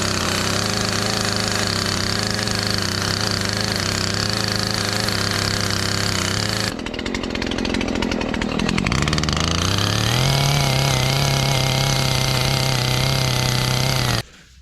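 Chainsaw smoothing a rough-cut log for a cabin window frame in the woods, running loud and steady with the engine note shifting as it cuts back and forth, then revving higher before cutting off at the end.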